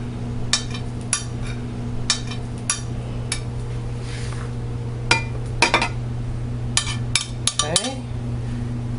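Marinated chicken for tandoori is mixed in a bowl, giving a string of sharp clinks and knocks against the dish at an irregular rhythm over a steady background hum.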